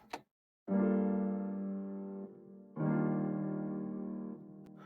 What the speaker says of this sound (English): I used orchestral strings, and I also added a piano from Keyscape.